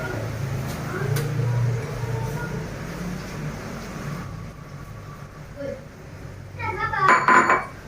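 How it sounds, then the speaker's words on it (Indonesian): Cubes of tofu go into a pot of boiling water while cooking semur tahu, with a low simmering hum and a voice talking, then a quick burst of bright metallic clinks from the pot near the end. "Airnya udah mendidih, jadi aku mau masukin dulu tahunya ke dalam sini"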